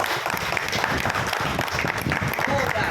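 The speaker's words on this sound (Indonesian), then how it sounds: "Tepuk tangan dulu buat kita semua." Applause at a school principal handover gathering held in a restaurant, steady dense clapping for about three seconds with voices mixed in throughout.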